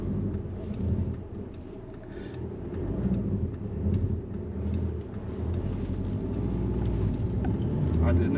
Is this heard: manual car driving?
yes